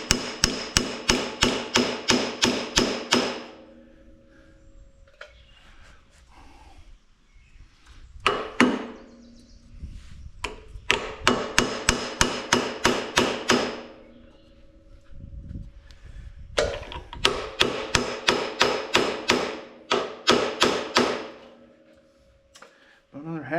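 Hammer blows on a part of a Farmall Super A tractor, struck through a socket, come in three rapid bursts of about a dozen ringing metallic hits each, loud and close, separated by quieter pauses.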